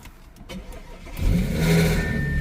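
A 2012 Audi A6 with a Continental Simos 8.51 ECU starts via proximity key, a brief crank rising into a steady, close engine idle.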